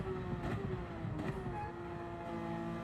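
A race car in a sim racing league game, a steady engine drone with a faster car coming through, its tone rising and swelling briefly as it passes close by.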